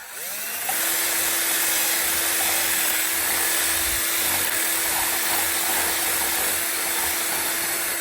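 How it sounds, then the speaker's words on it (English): A power drill spins up and bores steadily to widen a hole in a wooden barn door, a loud continuous whine with a sustained tone, close by and alone for about seven seconds. "let's go ahead and just try to drill it out a little bit more"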